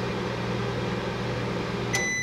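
A microwave oven runs on power from a Ryobi 2300-watt inverter generator, giving a steady loud hum with a low mains drone throughout, and a short electronic beep near the end.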